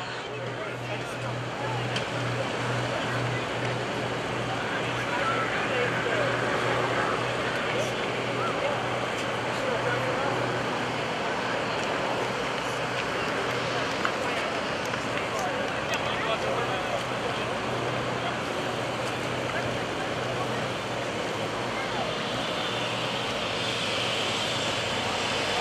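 Two aerobatic planes, an MX-2 monoplane and a Wolf Pitts biplane, climb out at an airshow at Greenwood Lake, with a continuous engine drone over steady background noise, and people talking throughout.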